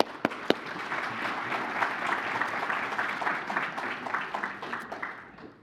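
Steady applause from a gala audience at the Wilkes County Hall of Fame event, moderately quiet and sustained, with a couple of sharp, close claps standing out at the start.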